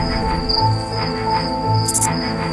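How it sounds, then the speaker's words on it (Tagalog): A steady, shrill cicada drone in the Philippines, with a sustained high tone and faint pulsing chirps from a male calling to attract a female, loud and close, with no voices. "gumagawa ng laughing sound yung lalaking kuliglig para akitin ang babae"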